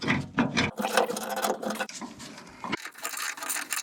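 Bolts on the front wing of a damaged Mk1 Escort are tightened with a wrench, giving close, buzzing rasps and ratcheting clicks in short bursts separated by brief pauses.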